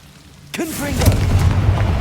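A Confringo blasting spell in Hogwarts Legacy, a sudden booming explosion that rolls into a rumbling, crackling decay, with a voice calling out at the moment of impact.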